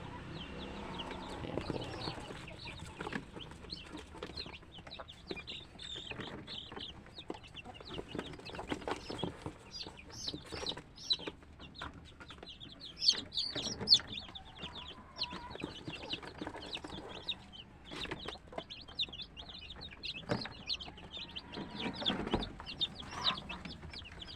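Newly hatched chicks peep and chirp continuously in a dense, overlapping chorus of high, thin calls, faint and steady throughout with no voices.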